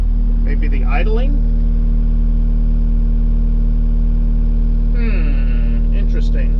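A Case skid loader engine idles with a steady, loud, low hum and droning tone right up close, while someone talks briefly over it near the beginning and again toward the end.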